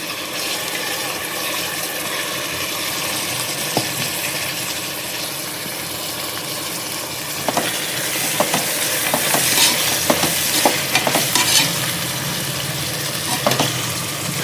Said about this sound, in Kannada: ಈಗ ತೊಳೆದು ಇಟ್ಕೊಂಡಿರುವಂಥ ತರಕಾರಿ ಮಿಕ್ಸನ್ನ ಹಾಕ್ಕೊಳ್ತಾ ಇದ್ದೀನಿ.